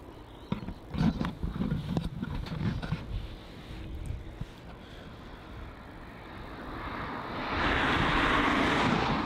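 A Brisbane-bound airliner at Melbourne Airport moves on the ground, its engine roar rising steadily toward the end, preceded by scattered knocks and ambient noise.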